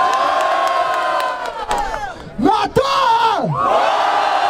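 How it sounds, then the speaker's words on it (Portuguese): A crowd at a Brazilian rap battle erupts in loud cheering and whooping, with shouted calls breaking through and a few sharp yells rising and falling over the steady roar. "Barulho para as rimas do Felipe!"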